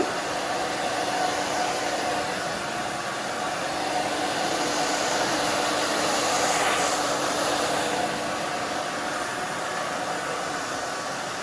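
A hair dryer runs continuously at close range, blow-drying short hair with a loud, steady whooshing roar and only slight swells as it moves back and forth.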